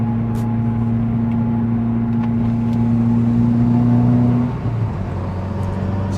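Car cruising on a freeway fitted with a West Verticooler intercooler, a steady loud engine and road drone with a sustained low tone that shifts slightly near the end, no voices.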